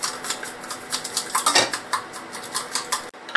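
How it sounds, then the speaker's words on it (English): A utensil clinks rapidly against a bowl while oregano is mixed into a batter, a quick irregular rattle of taps close by with a denser scrape in the middle. "So it's time to add some oregano and mix."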